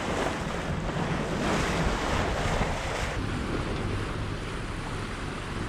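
Waves wash around and over a sailboat's deck at sea among the Exuma cays, a loud constant rush of surf mixed with heavy wind buffeting, without voices.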